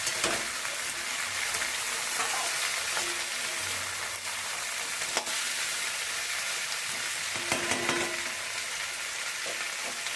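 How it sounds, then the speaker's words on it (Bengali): Chopped flat beans, potato, eggplant and broad beans go into hot oil with already fried onion and garlic for a fish-head curry, giving a continuous close sizzle with occasional stirring scrapes and no talk. "পেঁয়াজ রসুন সব ভাজা হয়ে গেছে, এবার কেটে রাখা আনাজগুলো দিয়ে দিচ্ছি।"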